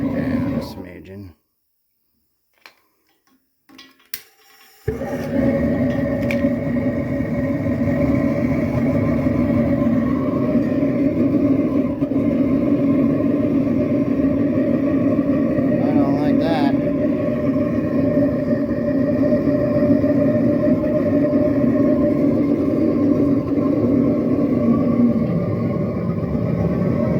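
Gas burner of a homemade aluminum foundry furnace, a loud steady roar that starts abruptly after a few seconds of near quiet and holds constant, broad and close, with faint fluctuations as the flame struggles.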